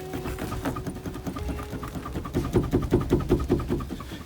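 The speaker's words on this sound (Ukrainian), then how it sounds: "щоб двері не скрипіли" Sliding door on a Mercedes Citan van squeaking as it is moved, a quick rhythmic run of short, sharp creaks, close and fairly loud, with no talking.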